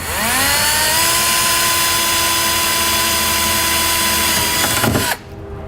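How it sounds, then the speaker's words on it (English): A power drill with a 1/4 inch bit bores out a plastic rivet during a trailer hitch install on a 2015 BMW X1, giving a loud steady whine for about five seconds before it cuts off abruptly. "take a 1/4 inch drill bit, and on either edge at the corner there's a plastic rivet"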